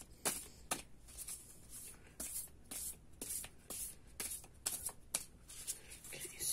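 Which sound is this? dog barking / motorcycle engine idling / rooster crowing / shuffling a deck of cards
shuffling a deck of cards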